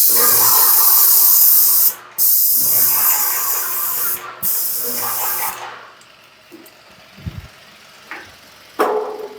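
A lacquer coat is sprayed onto a skateboard in three loud, close hissing bursts separated by short pauses, followed by quieter handling sounds and one more brief hiss at the end.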